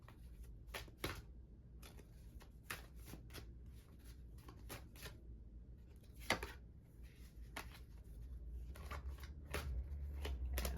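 Tarot cards are shuffled and drawn by hand, giving a string of crisp, close snapping riffles and soft slides in irregular bursts over a faint background hum, with no talking.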